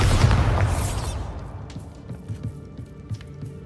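In Hogwarts Legacy, the Bombarda spell goes off as a loud, booming blast, then crumbling debris and scattered clatter trail off over the next few seconds.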